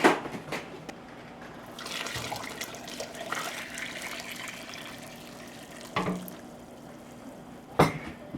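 Water pours and splashes into a canning pot holding jars of dill pickles, a continuous faint trickle and fill broken by a few sharper clinks and knocks.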